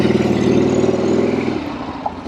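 A 1976 Harley-Davidson Sportster's engine running close by, a loud steady low throb that eases off slightly toward the end, heard alone without talk.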